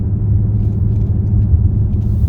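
A 2019 Mustang GT Premium with an Edelbrock 2650 Stage 2 supercharger gives off a steady, deep engine rumble up close, continuous and unbroken, with no one talking.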